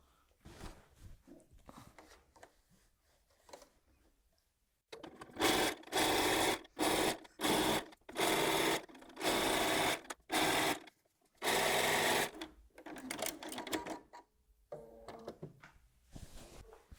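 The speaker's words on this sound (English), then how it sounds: "I'm going back to the machine now and I'm just going to sew that on." A sewing machine stitching colourful patchwork quilt fabric runs in several loud whirring bursts, each a second or so long, separated by short pauses and quieter handling of fabric before and after.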